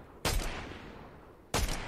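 Two sharp sniper shots in the video game Fortnite, loud close cracks about a second and a half apart with brief decaying tails and no talk.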